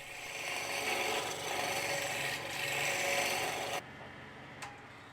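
A wooden workpiece on an old Norwegian-made lathe rasps steadily as the turning tool rides the bevel, a continuous close scraping that stops abruptly near the end.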